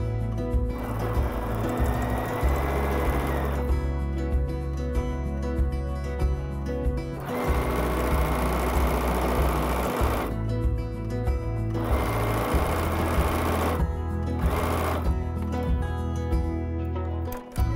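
A sewing machine whirs through several long stitching runs, its steady mechanical drone stopping and restarting, with no talking.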